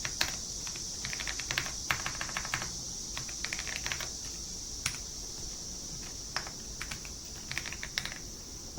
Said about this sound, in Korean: 보증금 치시고 Alt 엔터를 누르시면 됩니다